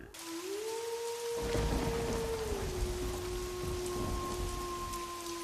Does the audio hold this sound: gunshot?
no